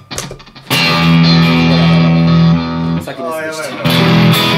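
Electric guitar played through a reverb effects pedal on a pedalboard, sustained notes and chords ringing loudly with a washy tail, briefly dropping around a short spoken remark before resuming.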